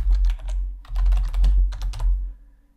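Rapid clicking keystrokes sound as a search query is typed on a computer keyboard, close and crisp in short bursts that fade out at the end.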